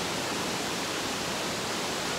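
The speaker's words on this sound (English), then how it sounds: "check out this waterfall. That is an awesome waterfall right there" A waterfall in Tallulah Gorge roars as a dense, steady hiss of rushing water, loud and unbroken, with no voices.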